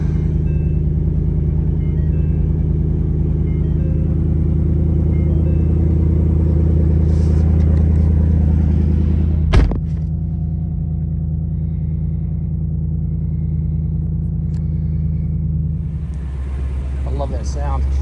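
A Mustang RTR fitted with a three-litre Whipple supercharger holds a deep, steady engine rumble throughout, close and loud, with a brief sharp knock midway and people talking over it.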